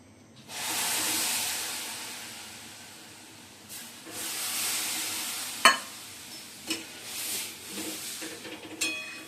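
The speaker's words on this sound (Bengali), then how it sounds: "সুন্দর তো ভাজা হয়ে গেছে দেখো লাল লাল করে ভেজে নিয়েছি এবার দুধ দিয়ে দিচ্ছি" Milk is poured into a hot pan of fried food, setting off a loud hissing, steaming surge that fades, followed by renewed sizzling and a few sharp clinks of a utensil against the pan.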